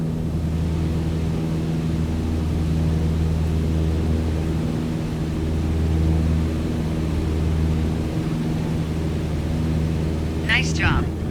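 A single-engine airplane in Microsoft Flight Simulator drones steadily as power is eased back toward 2,300 RPM, a constant low hum with a brief higher whine near the end.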